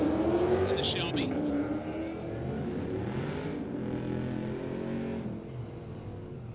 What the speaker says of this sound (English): We roll up a Mustang versus Corvette battle.